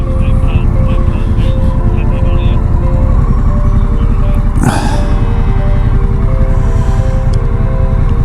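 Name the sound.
cars driving past on a road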